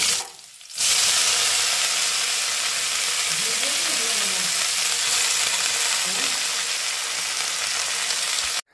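Chopped green leafy vegetables sizzle steadily in a hot pan at home, a dense continuous frying hiss with occasional soft stirring scrapes, starting after a brief quiet moment.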